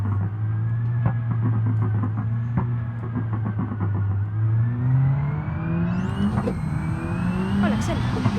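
A Volkswagen Golf 7R, stage 3 tuned, laps a circuit in the BeamNG Drive racing game, its engine note rising steadily in pitch as it accelerates and shifts, loud and continuous with a steady rumble throughout.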